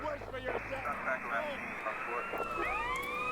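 Wailing police car siren in Grand Theft Auto: San Andreas, a rising and falling electronic tone over steady game engine noise, moderately loud.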